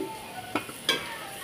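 A ground paste of ginger, cumin and green chilli frying in oil, a soft steady sizzle broken by two quick scraping stirs close by.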